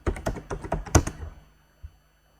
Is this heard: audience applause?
no